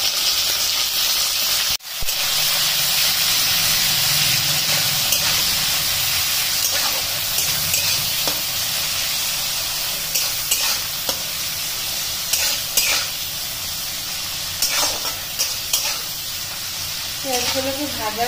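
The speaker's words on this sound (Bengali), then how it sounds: "এবার আমি পেঁয়াজ কুচিগুলো দিয়ে দিচ্ছি" Chopped onions hit hot oil that already holds bay leaves and dried red chillies, and they set off a loud, steady sizzle. Stirring scrapes and taps recur through it, close up, and a voice is heard briefly.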